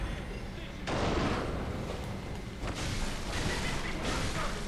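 Cannon fire from an enemy in the video game Bloodborne, a few loud bursts of blasting noise heard against a dense, rumbling game soundscape.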